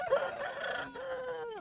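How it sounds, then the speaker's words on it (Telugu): A Parla breed rooster, about 18 inches tall and 3 kg, crows once at a village poultry and livestock market, loud and close, its long call rising then trailing off. "ఇక్కడ చూడండి మనకు కోడి పుంజు ఉందండి"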